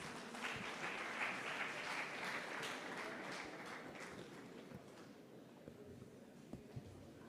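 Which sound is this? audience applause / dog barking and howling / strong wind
audience applause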